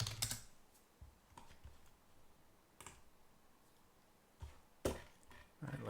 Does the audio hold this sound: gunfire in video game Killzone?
no